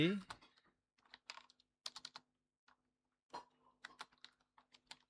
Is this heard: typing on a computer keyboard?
yes